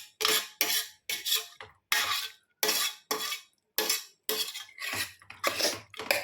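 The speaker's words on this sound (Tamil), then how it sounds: "இப்போ இதில் போட்டு நான் ஒரு கிண்டுறேன்" A spoon stirs brinjal kurma vegetables in a metal cooking pot, giving bursts of scraping and clattering separated by short pauses, close and moderately loud.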